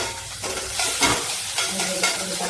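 Ginger, garlic and green chilli frying in a pan for fish momos, a loud continuous sizzle with quick stirring scrapes close by.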